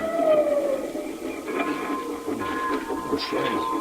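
A small steam engine train pulling one coach rumbles and clatters nearby with faint whistle-like tones and scattered mechanical squeaks, over a steady background hum.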